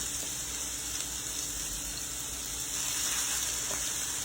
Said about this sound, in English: Now that our grease is hot, we're going to go ahead and we're going to plop these down, meat side down, just like that